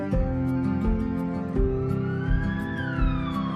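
An ambulance siren wails with rising and falling tones over steady, rhythmic background music, fairly loud and continuous throughout.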